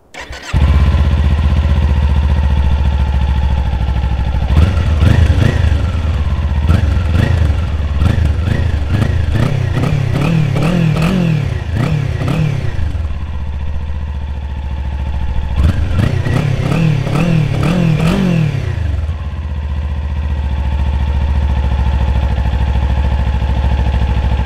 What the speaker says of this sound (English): we're back with the Kawasaki Z400 and we're taking it now back to the dealer